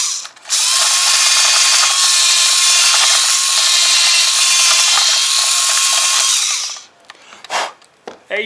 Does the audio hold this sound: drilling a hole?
yes